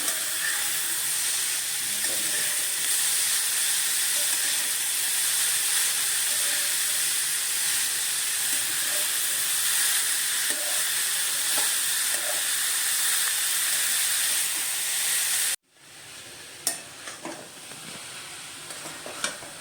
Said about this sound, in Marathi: गाजराचा खिसा आता आपला भाजत आलेला आहे तुपामध्ये